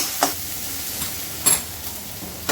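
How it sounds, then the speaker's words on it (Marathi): Salted potato pieces are stirred in a pan with a spoon, giving a few soft scrapes and clicks over a faint steady sizzle, close by and quiet. "हे बघा, चांगलं असं मिक्स करून घ्यायचं, सर्व मीठ लागलं पाहिजे"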